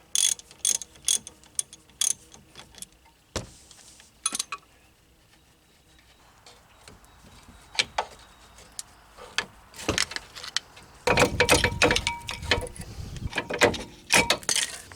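Ratchet wrench loosening half-inch brake caliper bolts on a Dodge Grand Caravan front brake, with scattered clicking and clanking bursts, quieter stretches between, and a busier run of close ratcheting near the end.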